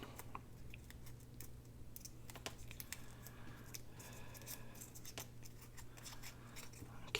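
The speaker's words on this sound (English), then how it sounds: "what I'm going to do is crumple that little flower up" A small paper flower coated with clear gesso is crumpled by hand, giving soft, close crinkling and crackling in short irregular bursts over a steady low hum.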